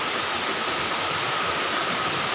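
Steady, dense rush of a waterfall at the Putuk Gragal site, a constant broadband roar of falling water with no breaks, close and fairly loud, no voices over it.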